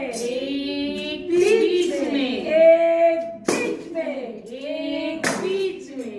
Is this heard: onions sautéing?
no